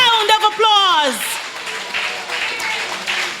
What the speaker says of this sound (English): Women, give yourself a big round of applause.